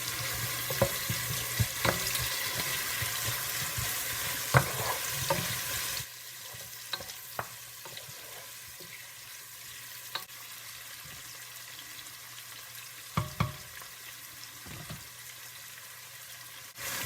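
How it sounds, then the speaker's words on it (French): Green bell pepper and sweet chili pieces frying in a pan of hot oil, a dense steady sizzle with occasional stirring clicks, loud at first, then dropping to a softer, quieter crackle about midway. "Et puis nous allons mettre poivron vert et piment doux."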